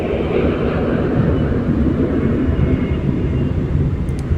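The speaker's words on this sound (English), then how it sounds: "That sounds like a refueling plane." A refueling plane roars overhead as a steady, loud, broad rumble over a city under air-raid alerts, unbroken and without speech.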